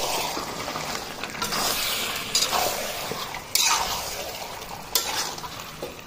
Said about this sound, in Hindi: इसको मैं 5 से 7 मिनट मिक्स करूंगी